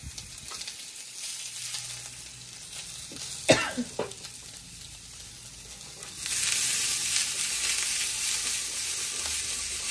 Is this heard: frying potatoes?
yes